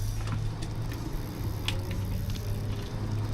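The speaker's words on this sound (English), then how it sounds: "I can hear the traffic outside right now." Traffic passing outside a parked van with little soundproofing, heard as a steady low rumble of road noise with faint intermittent clicks and hiss, no talk over it.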